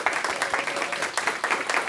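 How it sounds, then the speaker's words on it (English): Audience applause at a business panel event, a dense, continuous round of clapping of moderate loudness with no speech over it. "So can we give Sky a round of applause, please?"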